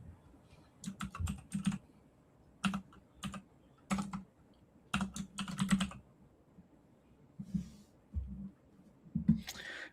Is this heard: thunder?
no